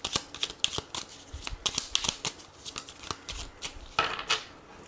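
Tarot cards are shuffled and cut by hand, giving a close, quiet series of crisp riffling snaps and soft slaps in an uneven rhythm without any speech.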